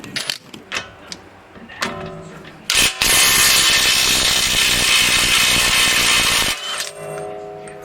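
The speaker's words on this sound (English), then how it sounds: "So now we'll get this spindle nut off." Spindle nut on a 2005 V6 Mustang front suspension coming off with a 1 3/8 socket: a few sharp metallic clanks, then a loud sustained impact-wrench rattle for about four seconds, ending with a few lighter clinks.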